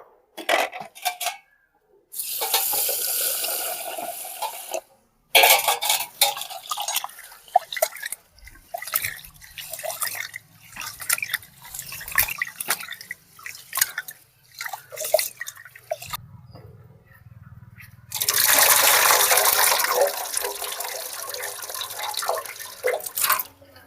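Rice grains are washed by hand in a pot: water splashes and trickles in bursts, with grains and the pot clattering and swishing between louder gushes of running water, close by and without talk.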